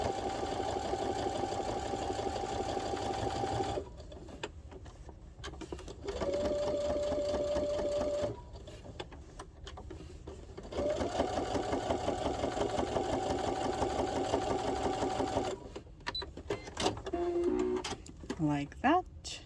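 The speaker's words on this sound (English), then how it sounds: "Now we're just going to do that top stitching along our little tab piece." Domestic sewing machine top stitching along a small fabric tab for a child's wallet, fast even whirring in several bursts with short pauses between, close and clear, with someone talking in between.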